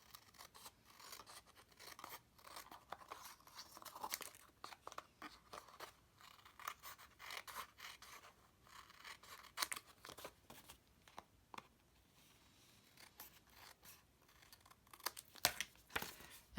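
Scissors or a blade trimming a layer of paper card from the back side, with faint, close, irregular snips, crinkles and small crisp cuts and no talking.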